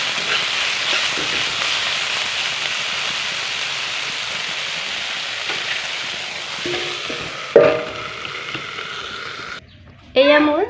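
Papaya flowers fry with turmeric in a pan, giving a steady, dense sizzle that runs close and loud for several seconds before a voice speaks at the end.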